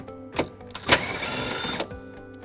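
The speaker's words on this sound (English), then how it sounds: "We're going to remove that bolt using a 10mm socket." A 10mm socket ratchet working a bolt loose on a Toyota Sienna, a few sharp close clicks followed by a dense buzzing ratchet run of about a second, then more scattered clicks.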